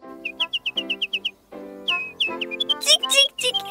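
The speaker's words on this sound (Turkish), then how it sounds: "Bülbülüm iyileşti, şarkı söylüyor." A cartoon nightingale sings a quick run of bright, evenly spaced chirps followed by warbling trills, close and clear, mixed with music and a voice.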